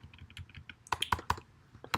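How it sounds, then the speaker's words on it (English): A computer keyboard is typed on in a short run of keystrokes: soft light taps at first, then several sharper, louder clicks in quick succession, heard close with no talking. "I'm going to type in password"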